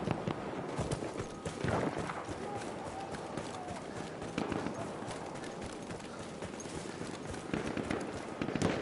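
Galloping horse hooves in the World War I shooter game Battlefield 1, a steady clip-clop rhythm running under continuous battle noise and wind throughout.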